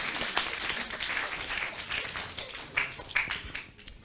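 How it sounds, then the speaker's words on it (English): Audience applause at a live meditation talk, a dense patter of many hands clapping that holds steady, then thins with a few sharper claps before fading. "So please, a round of applause for my"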